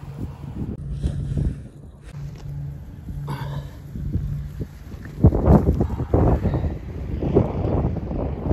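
Strong wind buffets the microphone in heavy, rumbling gusts outdoors in a field, growing rougher partway through, with a faint low hum underneath.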